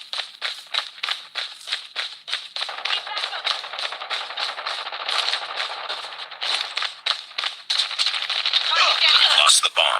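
Rapid gunfire in Call of Duty Warzone, bursts of sharp cracks in quick rhythm, loud and close, turning into dense continuous shooting near the end, with voices talking underneath.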